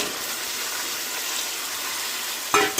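Chicken pieces going into hot spiced oil after the masala has cooked down: a steady, dense sizzle fills the whole stretch, ending in a brief clatter of stirring near the end.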